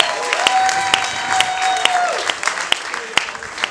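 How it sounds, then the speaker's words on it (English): Clapping from a crowd of wedding guests fills the room, steady and sustained, with a few sharp claps standing out and a brief tone ringing through. "a lovely round of applause"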